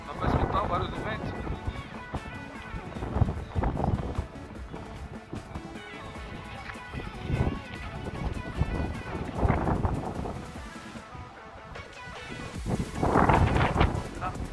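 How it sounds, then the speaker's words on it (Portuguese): Strong wind gusts across a cargo terminal, buffeting the microphone in loud rushing surges that rise and fall while someone talks. "Dá pra escutar o barulho do vento?"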